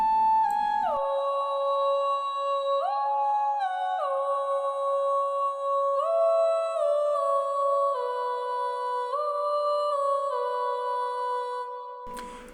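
A solo elf-style voice from a Kontakt vocal library sings a sustained, wordless melody, holding long tones that step between a few pitches. It is loud and close throughout, with nothing else underneath.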